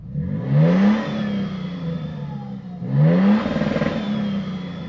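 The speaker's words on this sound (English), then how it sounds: "we also have a TRD badge on the exhaust, so let's take a listen to the outside." A 2024 Toyota Sequoia TRD Pro SUV revs up twice with a rising growl from the TRD exhaust, each rev settling back to a steady idle, heard close and loud.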